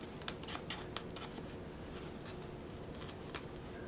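Scissors snipping through tape on a Samsung Galaxy S4 box, a few quick crisp cuts close by over quiet room noise.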